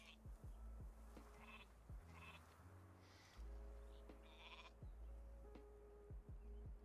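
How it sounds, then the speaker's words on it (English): Sheep in the video game Northgard bleating repeatedly, several clear, fairly close bleats in a row with short gaps between them and no talk over them. "I sent you 2 sheeps over here, Iggy."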